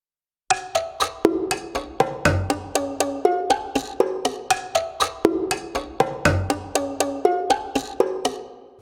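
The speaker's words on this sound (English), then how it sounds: "now I just want plucks and knocks." Plucked and knocked string sounds from the Unstrung sample library by Fallout Music Group play as a steady, rhythmic run of short, bright hits with quick decays, repeating a pattern for several seconds with no voices.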